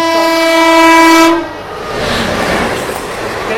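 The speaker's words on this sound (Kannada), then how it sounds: "ಅದು KSR ಬೆಂಗಳೂರಿಂದ ಅರಸೀಕೆರೆಗೆ ಹೋಗುವ ಪ್ಯಾಸೆಂಜರ್ ಟ್ರೈನ್ ಜೊತೆ ನಮ್ದು ಇವಾಗ ಕ್ರಾಸಿಂಗ್" A KSR Bengaluru–Arsikere passenger train passes close by, its loud horn blaring for over a second before giving way to the rushing rumble and clatter of the train moving past.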